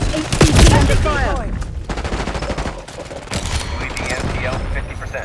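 Rapid gunfire in a Call of Duty: Black Ops 6 online multiplayer match, loud and dense, with overlapping bursts and shots mixed with game effects throughout.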